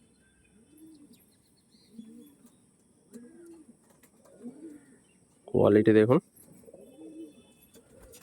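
Pigeons kept by a breeder, including a black-beaked blue-barred Star Line female, coo softly in a slow repeating rhythm about once a second, close by, while someone briefly talks over them.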